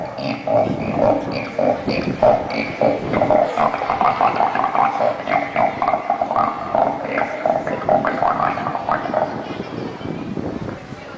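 A person imitates a frog's croaking in a school mimicry performance, giving a dense run of throaty, rhythmic croaks that carry on steadily for about ten seconds before trailing off.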